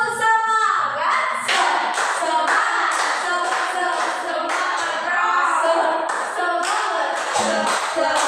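Rhythmic group hand clapping from a classroom clap game called 'tepuk semangat', bursts of claps repeating in sets across the whole stretch, loud and close, with children's voices chanting along between the claps.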